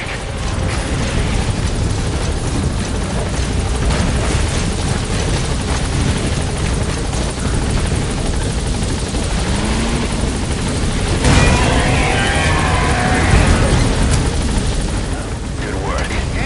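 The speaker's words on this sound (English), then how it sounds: "All right, the chopper's touching down." Helicopter touching down in the Metal Gear Solid V video game: a loud, continuous rotor roar with heavy low rumble and a brief surge partway through, with talk over it.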